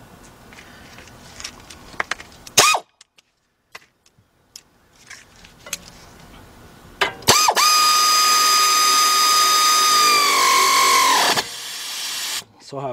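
Ratchet or power tool tightening a 13 mm bolt on a 2008 Audi A6 Quattro 3.2 during front right wheel bearing hub work, with brief bursts followed by a long sustained whirring run, close and loud.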